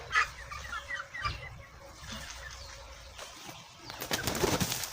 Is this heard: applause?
no